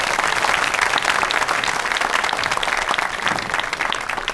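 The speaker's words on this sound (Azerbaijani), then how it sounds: "Köhnə Bakı ansamblını da alqışlayaq" A studio audience at a comedy show applauds the Köhnə Bakı ensemble with dense, loud, sustained clapping that stays steady throughout, with no talking over it.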